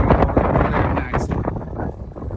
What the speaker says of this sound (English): Got a little windy real quick, didn't it?